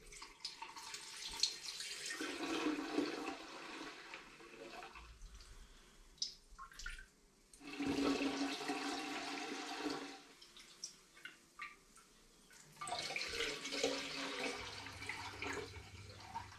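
Tomato paste wash poured from a jug through a filter, giving bursts of splashing, trickling liquid in three main pours separated by quieter pauses, close and fairly loud with no talking.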